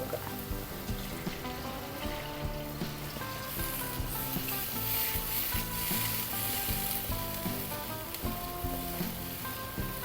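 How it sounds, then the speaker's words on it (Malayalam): Water poured into a sizzling okra masala in a pan sets off a loud, steady hiss and crackle that runs throughout, with no voices. "ഇതിനകത്ത് വെള്ളം ഒഴിച്ചു കൊടുക്കുക."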